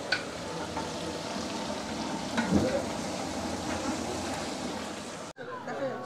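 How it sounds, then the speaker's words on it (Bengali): River fish from a mountain stream frying in oil at a plain roadside dhaba, a steady crackling sizzle with clattering and faint background voices, briefly cut off near the end. "এই যে ফ্রাই করছে ডাইরেক্ট এখন।"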